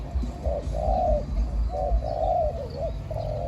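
Soft, low dove coos repeat in short phrases, a few seconds of rhythmic cooing over a steady low background rumble, with faint chirps around.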